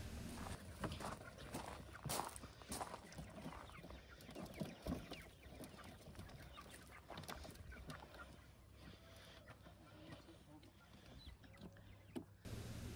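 Young chicks, with geese nearby, walk out of a movable run onto grass, clucking and peeping in scattered bursts amid footsteps and rustling, fairly faint and close.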